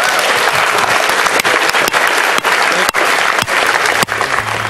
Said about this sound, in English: One more round of applause for all our speakers,